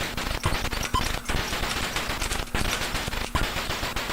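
Rapid bursts of plane gunfire in the MSX2 game 1942, a fast stuttering stream of retro shots with brief gaps, loud and steady.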